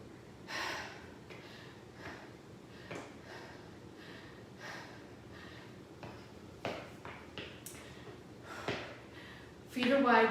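After a set of sumo squats, a person breathes hard in a quiet room: short, sharp inhales and exhales, some snort-like, scattered unevenly at moderate volume, with a louder burst at the end.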